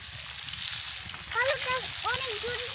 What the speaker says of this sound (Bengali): সন্ধ্যার সময় নদীর পাড়ে এরকম মাছ ভাজি করতেছেন